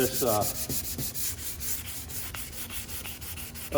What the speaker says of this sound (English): I'm not trying to turn the 180 grit scratches into 320 grit scratches. I'm trying to sand the outskirts of